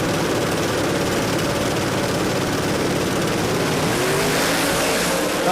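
Pro 3 heads-up drag race cars launch and roar down the strip at a Sydney drag racing event, a loud continuous wall of engine noise across the whole stretch with no pauses.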